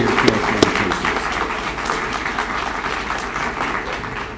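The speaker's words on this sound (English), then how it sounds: "let's give them a round of applause" At a Sparrow and Michigan Medicine affiliation event, a crowd applauds pediatric caregivers who stand up, giving a dense, loud burst of clapping that holds steady for several seconds and tapers off slightly at the end.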